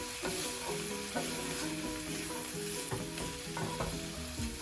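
Squash lo mein with cilantro sizzles and crackles in a hot pan while being stirred, a close, steady fry with faint scraping and clinking of the utensil against the pan.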